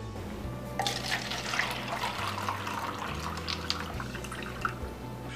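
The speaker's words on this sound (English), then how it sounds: "fill the cup with water" Water pours steadily from a tap into a plastic cup with a small hole in its bottom, giving a continuous splashing, trickling rush with a few bright drips, close and alone without talk.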